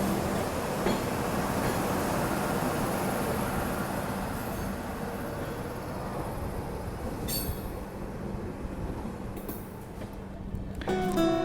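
A train hauled by a WAG9 electric locomotive rumbles past on the line near Raipur junction, a steady loud wheel roar with brief squeals and clicks near the end.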